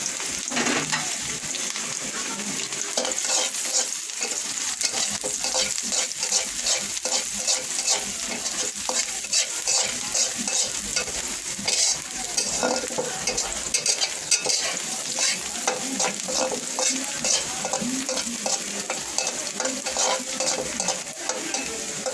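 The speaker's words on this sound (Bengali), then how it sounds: "পেঁয়াজটা প্রায় ভাজা হয়ে এসছে।" Onions and garlic frying in hot oil in a pan, a loud continuous close-up sizzle broken by frequent quick stirring scrapes throughout.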